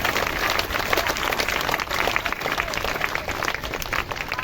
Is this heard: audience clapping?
yes